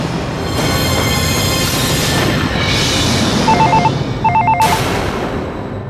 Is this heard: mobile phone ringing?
yes